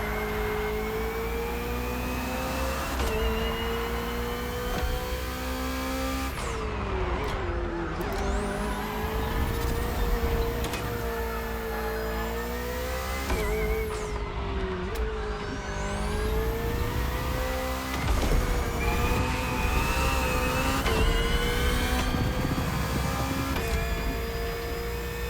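A BMW hybrid V8 race car engine in the video game Crew Motorfest holds a loud, steady high-revving whine, with repeated pitch drops and climbs as it shifts through gears, running alone throughout.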